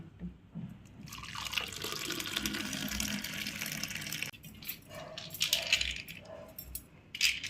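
Strained mint juice poured into a glass, a close, continuous liquid pour and fill that breaks off midway, followed by a few lighter splashes and clinks, no talking.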